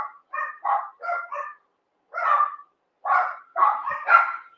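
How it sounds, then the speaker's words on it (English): Several dogs barking in short bursts, loud and close, two quick clusters of yaps, a pause, then a longer run of overlapping barks. "sorry about the dogs."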